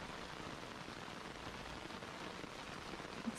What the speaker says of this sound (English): Just watching the rain